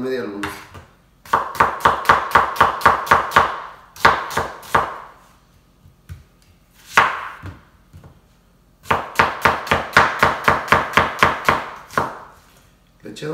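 Onions being sliced into half-moons on a cutting board, with bursts of rapid, evenly spaced knife chops striking the board, separated by short pauses, close and crisp with no talking.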